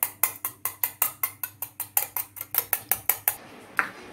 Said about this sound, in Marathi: जे आपण आता हे फोडून घेतलेला अंडा आहे ते आपण अशा पद्धतीने फेटून घ्यायचा आहे